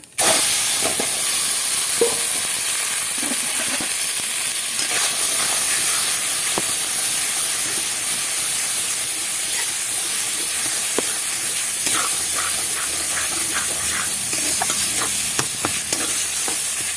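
Ground yardlong bean paste goes into hot mustard oil tempered with black cumin seeds in a wok, giving a steady, loud sizzle and hiss that lasts throughout, with scattered scraping and stirring clicks and no voices.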